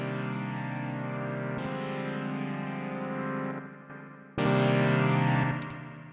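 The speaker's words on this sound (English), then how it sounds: "So it's just giving it that quick little echo" Synth pad chords run through the Clip Slap Analog preset of Ableton's Echo in a lo-fi house production, giving a short slapback echo on the sustained tones, with a brief drop before the chord returns.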